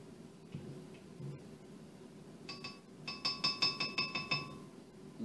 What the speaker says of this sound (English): And then I'm going to gently stir that mixture together.